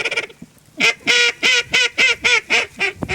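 Ducks on the Cumberland River in Tennessee quack in a loud, steady run of about eight evenly spaced calls, close and clear with no talking over them.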